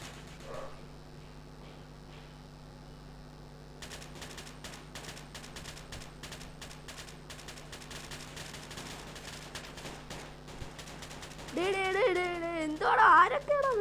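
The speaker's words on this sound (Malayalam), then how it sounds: "വെടി ശബ്ദമൊക്കെ കേൾക്കാം." Gunfire in the Kuboom shooting game, a rapid run of sharp shots and bursts going on for several seconds, moderately loud, followed near the end by a voice talking over it.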